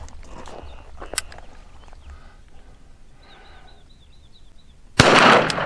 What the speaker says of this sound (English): I'm going to take a couple shots.